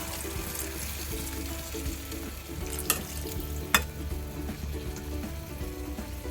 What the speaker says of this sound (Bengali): এবারে আমরা পরিমাণ মতন অল্প জল দিয়ে দেব।